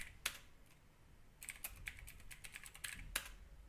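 Keys tapped on a computer keyboard while a terminal command to make a new folder is entered, irregular clicks in short bursts with a pause early on, close and fairly quiet, no voices.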